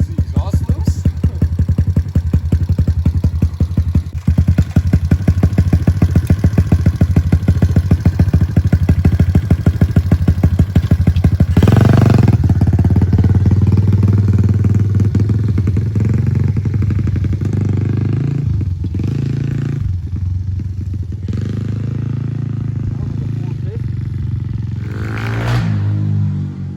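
A Kawasaki KLX110L dirt bike fitted with a big bore kit runs steadily and loudly up close, a dense rapid engine pulse holding through the clip with a brief surge in revs around the middle.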